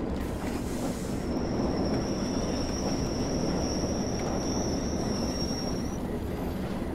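A train in the Train Sim World 4 game runs downhill on a Northern Trans-Pennine route, with a steady loud rumble of rolling wheels and a thin high squeal ringing over it for several seconds.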